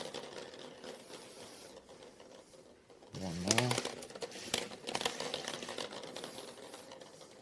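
Draw balls rattle and clatter as they are shuffled in a glass bowl during a UEFA Champions League draw ceremony, a close, busy rustling that rises midway with bright clicks over a faint hall ambience.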